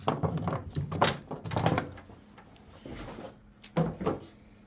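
Plastic push tabs being popped out during a triple tree and lower fork install, a series of close hollow clicks and knocks in irregular bursts with quieter gaps between.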